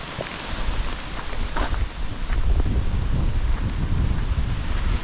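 Rain and gusting wind at Haweswater, a loud continuous rushing roar with buffeting lows on the microphone and scattered drops.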